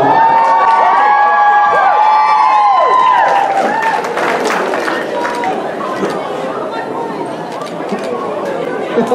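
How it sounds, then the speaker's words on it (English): An audience at a costume contest claps and cheers for a contestant in costume as Moana, with loud crowd chatter and shouts fading into ongoing murmuring. "now hold the applause"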